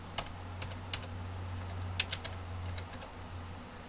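Fingers tap a computer keyboard in a short, irregular burst of light clicks over a steady low hum, close and fairly quiet.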